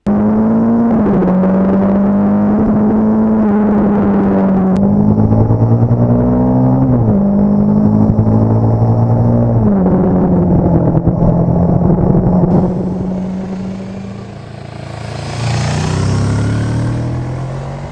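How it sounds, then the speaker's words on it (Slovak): A QJMotor SRV 700 sport cruiser with an inline twin-cylinder engine revs loudly and steadily close by, its pitch rising and falling through several throttle blips before settling into a smoother run-down near the end, with no talk over it. "Už zvuk motora dáva tušiť, že toto tu je športovo zameraný cruiser."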